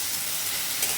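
Ginger, garlic and onion masala frying in a pan over a medium gas flame, a steady close sizzle and hiss that carries on evenly, with no voices.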